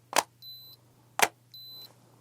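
Power button on a KKCOBVR battery head strap for the Quest 2, pressed twice: each press gives a sharp click followed by a short, thin electronic beep, clear and close against a faint steady hum.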